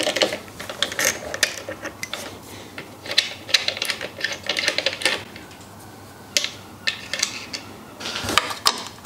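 Quick ratcheting clicks from a ratchet with a 10mm socket loosening a cover bolt under a Subaru's hood while fixing a squeaking power steering belt; repeated close, crisp bursts of clicking with short pauses between them.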